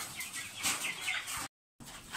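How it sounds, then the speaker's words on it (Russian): Chickens in cages cluck and squawk close by in a short agitated burst, cut by a moment of silence before the clucking resumes. "А, курочки мои"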